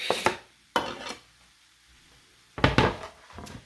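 Chopped onion dropped into a cooking pan while making cabbage rolls, heard as a few short clattering bursts of pieces landing and scraping, close and fairly loud, separated by quiet gaps.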